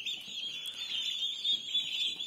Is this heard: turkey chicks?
yes